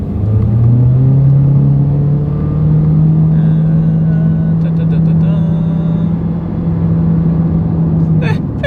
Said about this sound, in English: let's see how quickly we can get our new 2023 Honda HR-V here up to speed